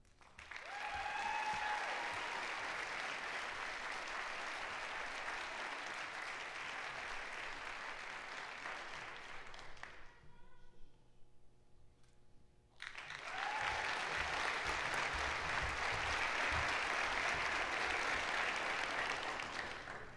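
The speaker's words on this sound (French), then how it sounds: "c'est le temps d'applaudir chaleureusement les nouveaux docteurs." Audience at a university graduation ceremony applauding new doctors: sustained warm clapping fills the hall, dips briefly to near quiet in the middle, then swells again loudly to the end.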